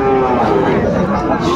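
A young bull calf at the Aftabganj cattle market moos in one loud, drawn-out call close by, with crowd chatter and voices mixed in around it.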